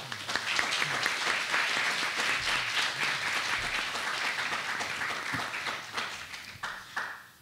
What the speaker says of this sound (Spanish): Un aplauso para los tres, por favor.